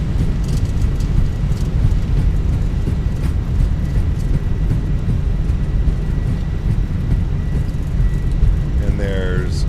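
Airbus A320 thrust reversers roaring during landing rollout in the Fenix A320 flight simulator, a steady loud broadband engine rumble lasting throughout, with a brief tonal whine near the end.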